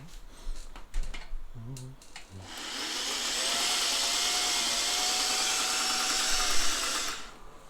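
Sewing machine stitching in reverse to back tack, a loud, close, steady motor whir with rapid needle ticking that runs continuously for about five seconds. A few clicks and knocks come before it as the machine is set, and it stops abruptly.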